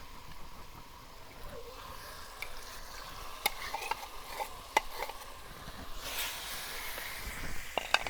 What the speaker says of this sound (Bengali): নেড়ে নিব যাতে যান কড়াইয়ে লেগে না যায়।